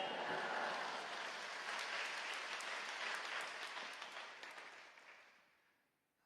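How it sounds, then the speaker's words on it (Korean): Congregation applause at an early-morning Korean church service welcoming the pastor to the pulpit, dense sustained clapping that holds steady and then fades away toward the end, with no talk over it. "박수로 맞이하시겠습니다"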